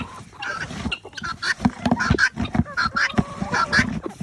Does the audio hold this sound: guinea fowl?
yes